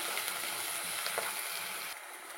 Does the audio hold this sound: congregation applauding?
no